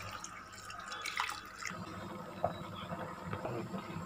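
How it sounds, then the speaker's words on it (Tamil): Water bubbles in a pot with fried rice for a vegetable biryani cooked in a pressure cooker, giving irregular close popping and gurgling over a low background hum. "இப்போ பாருங்கள் நல்லா கொதிக்குது."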